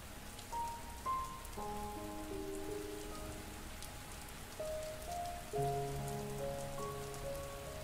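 Steady rain patters on a surface throughout, a soft even hiss beneath slow, sustained tonal music notes for a meditation.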